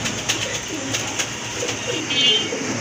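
Several Rajgolla pigeons coo in low, throaty rolling calls, close and fairly loud, with scattered faint chirps and little talk.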